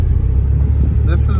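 A Mitsubishi Starion rolls along in drive with a low, steady engine rumble heard from inside the cabin, with a voice speaking briefly over it near the end.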